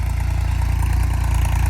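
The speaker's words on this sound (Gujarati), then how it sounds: "અત્યારે આપણું નાનું ટ્રેક્ટર હાંકે છે" A small farm tractor's engine chugs steadily while pulling an MB plough through a field, a loud, close, low pulsing drone with a rapid even beat and no break. No voices are heard.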